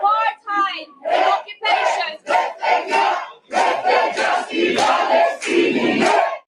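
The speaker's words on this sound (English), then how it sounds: "the crowd was really fired up" Rally crowd chanting in loud rhythmic bursts, many voices shouting together in repeated phrases with short pauses between, close and forceful.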